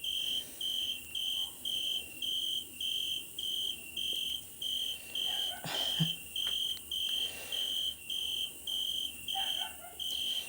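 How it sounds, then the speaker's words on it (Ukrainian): A cicada chirps from a perch directly overhead outside, close and loud. Its high buzzing drone pulses evenly about once a second, with a faint knock partway through. "Десь прямо сидить наді мною і так же ж сюрчить старанно."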